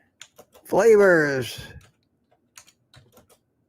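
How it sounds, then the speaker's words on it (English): Someone types on a computer keyboard with an injured right hand. A short stretch of speech comes first, then sparse, light key clicks. "my typing with my bum right hand is getting much better"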